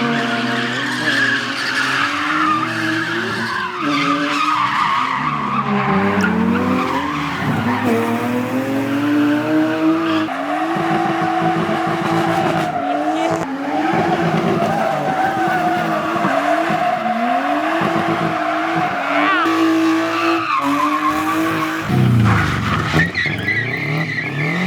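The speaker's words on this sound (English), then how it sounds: "Did some drifting." Nissan Skyline drifts at a Nissan meet, tires squealing in long wavering screeches over a revving engine, loud and close, continuous with shifting pitch throughout.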